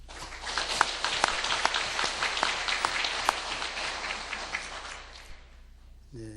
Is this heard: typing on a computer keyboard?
no